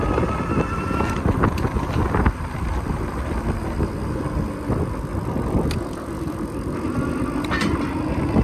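Steady wind buffeting roars across the microphone while riding a Super 73 RX electric bike on throttle, continuous and loud, with a few faint clicks and no talk.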